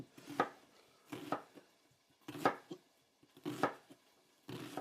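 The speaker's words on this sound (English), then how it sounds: "I'm gonna go ahead and cut up the onion" A dull knife chops through an onion on a board in five distinct bursts of several quick strokes each, separated by short pauses, close and clear with no talking.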